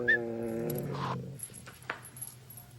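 A dog in a comedy cop show scene, heard as a short growling, whimpering vocal at the start, followed by faint clinks and knocks.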